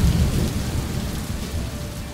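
Animated rain falls in a steady hiss while low thunder rumbles underneath, strongest at the start and fading slightly, with no voices.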